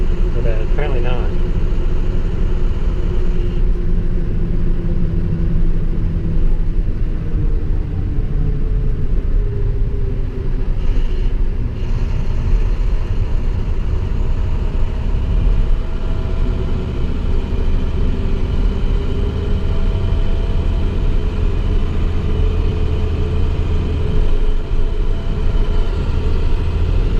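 A 2014 International Durastar truck with a DT diesel engine drives along, producing a loud, continuous low rumble with slowly shifting engine pitch throughout.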